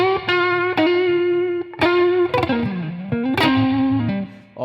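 An electric guitar played live through heavy reverb and distortion, with sharp pick scrapes and sliding fall-offs cutting between loud sustained bent notes and ringing chords, no voices.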